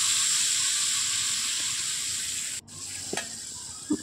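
Water hits a hot pan of frying river fish curry in a home kitchen, giving a loud, steady, close hiss of sizzling that cuts off briefly, then continues with a few light clinks.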